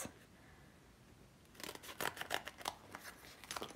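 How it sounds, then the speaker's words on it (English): Scissors snip through foam strips for a scrapbook page, a quiet run of quick crisp cuts after a near-silent start, close and without talk. "These are foam strips, and I'm going to cut them down so they fit this."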